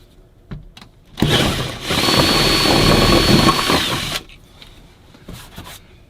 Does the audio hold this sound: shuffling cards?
no